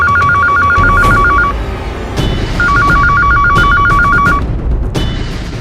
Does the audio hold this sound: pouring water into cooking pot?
no